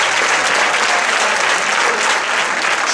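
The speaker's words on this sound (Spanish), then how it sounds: "vamos con ese aplauso de ánimo a los riojanos que están intentando apurar." A crowd applauding to cheer on competitors during a timed ring-lifting contest in Cervera del Río Alhama, La Rioja: dense, loud, continuous clapping throughout, with no distinct voices.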